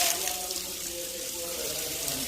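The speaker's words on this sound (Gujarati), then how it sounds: "અંદર પાણી શરૂ થઈ ગયું છે ફૂલ પાણી આવે છે" Water runs steadily and at full flow from a pipe into a tank at a house, a continuous near rushing splash without pauses.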